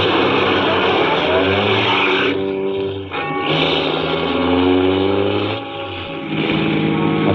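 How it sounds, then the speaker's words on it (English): A car drives along the road in a 1941 radio play, a loud steady engine drone with shifting tones, a short dip in the middle and a slight easing near the end, with no talk over it. "After I got the car back on the road again"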